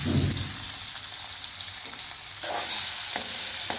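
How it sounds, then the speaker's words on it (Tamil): Cumin, ginger, garlic and onion fry in hot oil with a steady, close sizzle and crackle, broken by a few stirring scrapes of the pan. "ஜீரா பொரிஞ்சதும் கொஞ்சம் இஞ்சி, கொஞ்சம் பூண்டு, கொஞ்சம் வெங்காயம் எல்லாத்தையும் போட்டு நல்லா ஃப்ரை பண்ணிடலாம்."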